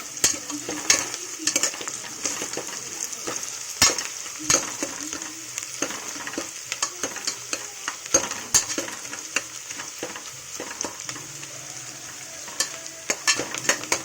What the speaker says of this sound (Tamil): நல்லா வெங்காயம் நல்லா நல்லா அது ப்ரௌனி ஆகணும்